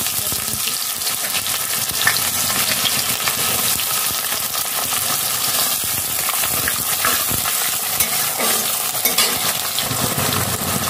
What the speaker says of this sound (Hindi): जीरा तड़के के लिए डाल दी हूँ। इसे हम जलने दे रहे सुनहरा होने तक।